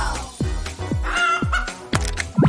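Chicken clucking for a Play-Doh chicken: a rapid series of sharp, close cluck-like calls in an irregular rhythm, loud and alone with no talking.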